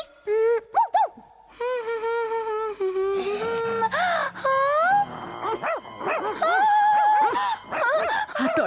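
A cartoon character imitates a dog with a run of yips, whimpers and bark-like vocal sounds, high, tonal and expressive, close up and mixed with other animated voices.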